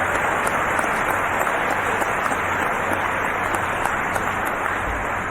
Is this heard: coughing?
no